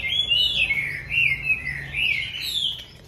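A Chinese hwamei songbird sings nearby with a loud, clear run of warbling, swooping whistled phrases repeating over a few seconds, alone with a faint low hum behind.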